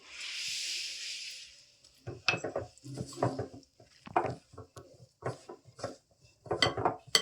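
Cookie dough ingredients are mixed with a little milk in a bowl after a brief hiss, giving irregular scraping and clattering strokes, close and fairly quiet, in uneven bursts.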